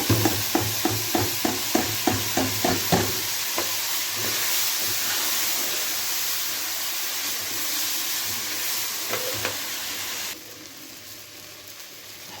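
Food fries in a pan with a continuous sizzling hiss while a utensil scrapes and stirs in steady rhythmic strokes at first. The stirring then fades and the sizzle carries on alone, quieter toward the end.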